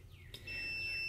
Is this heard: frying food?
no